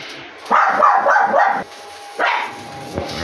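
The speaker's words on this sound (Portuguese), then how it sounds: "Tá rosnando pra mim. E já deu umas latidinhas quando eu cheguei." A dog lying underneath a car body in a Brazilian workshop gives two bursts of growling and barking, a longer one then a shorter one, fairly close and loud, with no voices over it.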